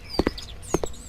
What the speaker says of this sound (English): you can hear the footsteps